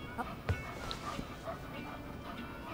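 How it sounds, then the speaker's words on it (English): A puppy in the Life is Strange 2 video game gives a few soft whimpers and small yips, faint and brief against a quiet background. "It's a puppy."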